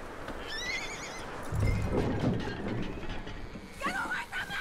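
A horse in the Red Dead Redemption 2 video game whinnies twice, a rising neigh near the start and another near the end, over a low bed of hoof shuffling and game ambience.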